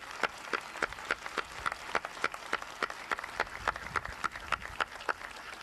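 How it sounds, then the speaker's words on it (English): Sparse, scattered handclaps from an audience at a 1990 rodeo Hall of Fame induction ceremony, a modest round of applause with distinct individual claps rather than a dense roar. "I think they all deserve a spontaneous round of applause"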